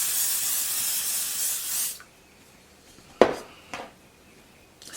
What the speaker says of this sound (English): what we're gonna do is add a little hairspray